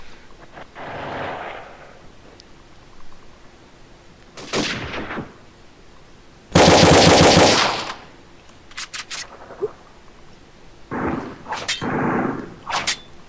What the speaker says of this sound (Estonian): Ma lasin taevast.